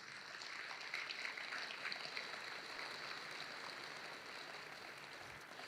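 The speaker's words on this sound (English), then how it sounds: "Give them a round of applause," Steady, fairly faint audience clapping fills a hall during a high school hall of fame banquet, continuing evenly without voices.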